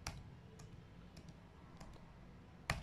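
Computer keyboard keys click faintly in a few scattered taps, with a sharper click at the end, in a quiet room as a down payment figure is entered.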